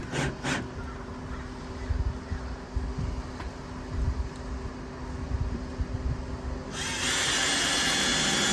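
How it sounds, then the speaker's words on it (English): Power drill driving screws into a window panel on a 1969 VW Westfalia bay window bus, bursts of whirring at moderate distance with a steady fan-like hum underneath and a louder, brighter whine near the end. "drill it and screw it in from this side."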